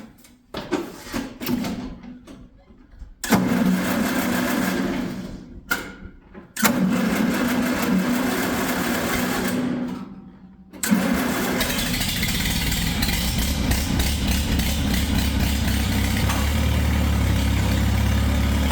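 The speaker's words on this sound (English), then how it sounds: "We got the tractor fired up." A tractor engine cranks in a few short bursts with pauses, then catches and settles into a loud, steady idle with a deep rumble that runs to the end.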